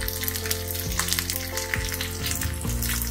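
Spiced bread crumbs with green chili fry in a pan, a loud close sizzle running throughout with a few soft scraping stirs.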